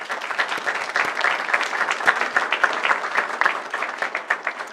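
An audience claps for 8th grade mock trial students, a steady, dense round of applause from many hands lasting the whole few seconds without a break, moderately close and unaccompanied by speech.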